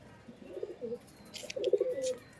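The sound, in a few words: pigeons cooing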